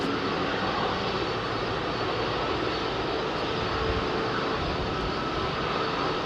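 Emirates Airbus A380 jet engines roar steadily at close range at Heathrow, a dense, broad, continuous rumble with a hissing top that holds at constant loudness throughout.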